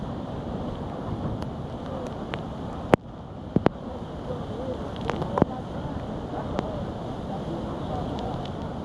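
Strong, steady storm wind with gusts around 125 roars in a broad wash of noise, with a few sharp buffeting knocks and clicks partway through.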